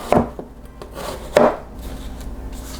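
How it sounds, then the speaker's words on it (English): A knife slices down through an onion on a cutting board for a tuna noodle casserole, giving two sharp, close chopping thuds about a second apart with quieter scraping between. "now what I'm going to do is I'm just going to slice down through"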